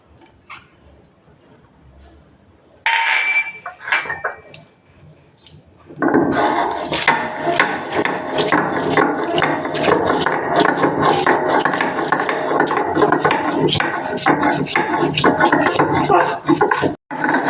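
Mustard seeds with green chilli and garlic are ground into paste, first with a short scraping burst and then a loud, sustained rhythmic grinding and rubbing, close and continuous.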